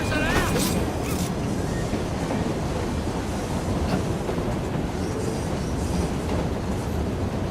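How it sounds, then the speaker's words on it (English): Continuous rumbling and clattering of a moving train in the video game Assassin's Creed Syndicate, a steady loud wash of rolling noise throughout, with faint talk near the start. "We'll be on our way soon as the train slows, miss."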